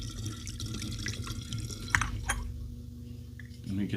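Liquid is poured from one bottle into another, a steady, soft, close trickle with light splashes and gurgles.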